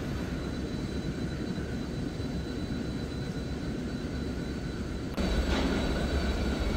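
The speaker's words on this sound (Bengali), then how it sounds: "আমাদের কুয়াকাটা 2 লঞ্চটি কীর্তনখোলা 10 লঞ্চের সাথে গতিযুদ্ধে মেতে উঠেছে।" Kuakata 2 passenger launch engine racing the Kirtankhola 10 launch on a river, a steady loud droning roar throughout that grows heavier near the end.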